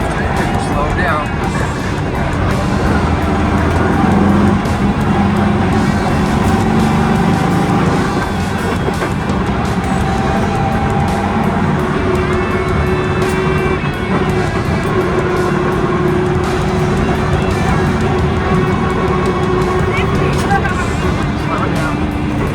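A VW Baja Bug drives on a dirt track, its engine droning steadily with rough rumble and shifts in pitch, while people talk over it throughout.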